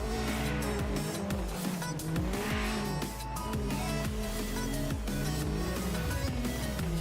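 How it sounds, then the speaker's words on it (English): Drift car warming its tyres during a drift competition round, engine revving hard with repeated tire squeal and skidding, loud and continuous with rhythmic pulses of revs. "See Noah Mlade just there warming his tyres"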